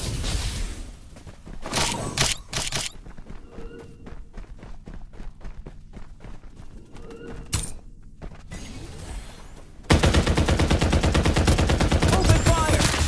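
Rapid bursts of gunfire from a Farlight 84 solo battle royale match, with scattered shots and short volleys giving way to a loud, dense sustained automatic stream near the end.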